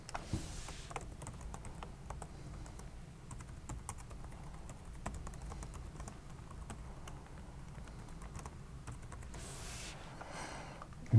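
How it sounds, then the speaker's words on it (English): Steady typing on a computer keyboard during a software demo, continuous soft clicking keystrokes close by with no talking, a slightly louder burst of keys near the end. "I would like to type some text here"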